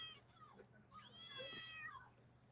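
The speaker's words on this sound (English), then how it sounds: "I heard him meow too, Texas Granny." Pet cat meowing, a drawn-out rising and falling meow after a short chirp, fairly faint and close, over a low steady hum in a quiet room.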